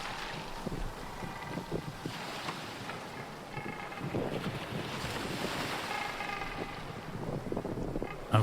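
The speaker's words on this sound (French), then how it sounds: "Un voilier solitaire avec une voile bleu pâle tourne au ralenti sur l'eau sans vent." A lone sailboat with a pale blue sail drifts slowly on calm, windless water by a jetty, heard as a steady, continuous wash of lapping water and soft wind noise throughout.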